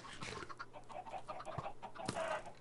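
Chickens cluck busily in a video game while sharp gunshots crack through at intervals, the birds close and steady throughout.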